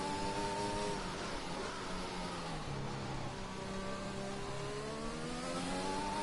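Race car engine in a sim racing video game at Portimao, a steady high-pitched whine rising and falling through gear changes across a flying lap, loud and continuous with no talk over it.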